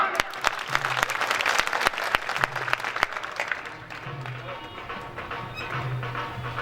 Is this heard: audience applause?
yes